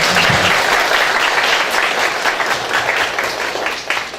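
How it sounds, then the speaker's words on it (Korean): A lecture-hall audience of Korean university students claps loudly and continuously for a comedian's guest talk, a thick wash of hands that carries on without a pause and eases slightly near the end. "저희 노력을 가상히 여기셔서 동정과 연민의 박수"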